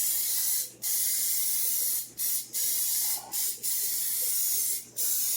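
Oil is sprayed from a can to grease a baking pan for a cauliflower and chicken casserole, in one long steady hiss broken by four short pauses, close and loud, with no talking.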